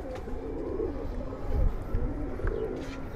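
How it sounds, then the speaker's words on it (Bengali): Giribaz pigeons at a pigeon farm coo in low, throaty rolling phrases, steady and close, under a dense background of flock murmuring. "তো দেখেন একদম সুপার কোয়ালিটির অনেকগুলা কবুতর আছে এইখানে"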